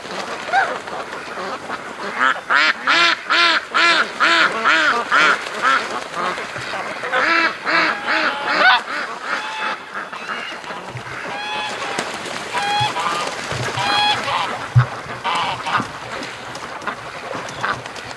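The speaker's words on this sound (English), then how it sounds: "That noise is usually a goose getting upset." Waterfowl at a pond, with upset geese honking at ducks; loud, close, repeated harsh honks and quacks overlapping in irregular bursts, with a low boat-like rumble underneath.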